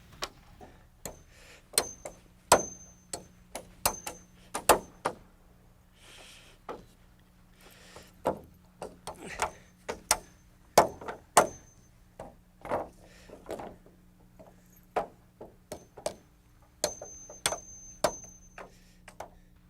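16-penny nails hammered into floor joists and a girder, sharp irregular knocks in quick bursts with short pauses, close by.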